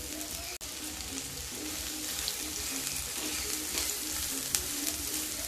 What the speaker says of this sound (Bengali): ঘি মেল্ট হয়ে গেলে সেদ্ধ করে জল ছড়িয়ে নেওয়া সয়াবিনগুলো দিয়ে দেব।